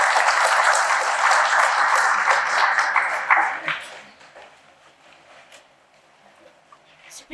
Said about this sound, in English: one more really, really big round of applause